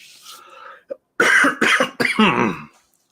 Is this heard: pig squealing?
no